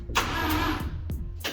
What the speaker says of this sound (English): Engine turns over, so the starter motor wiring is correct.